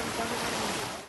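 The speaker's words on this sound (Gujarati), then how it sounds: "પાણીથી તરબોળ રણમાં પવનના સુસવાટાના કારણે પાણી હિલોળે ચડ્યું છે" Wind-driven waves slapping across floodwater spread over the Nadabet desert near the Indo-Pak border, a dense continuous wash of churning water and gusting air, loud and close throughout.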